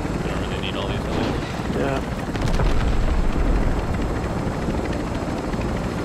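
A helicopter in the Call of Duty Warzone 3 video game drones loudly and steadily through the whole stretch, with rotor noise swelling midway and gunfire-like cracks mixed in, while players talk over it.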